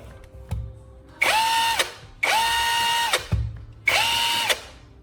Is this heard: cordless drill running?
yes